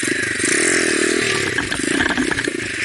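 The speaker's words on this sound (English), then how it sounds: "First gear, foot on the floor, right foot on the brake, pop the clutch and try to get a bigger wheelie." A motorcycle in first gear has its clutch popped for a wheelie, a loud close engine roar with a brief rising surge, then rattling, clattering bursts as the bike lurches.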